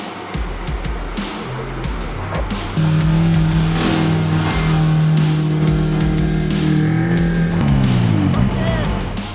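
A Suzuki Jimny 4WD engine revs hard and strains loudly climbing soft sand, its pitch rising and holding as the vehicle labors forward, with wheelspin noise and shifting engine tones.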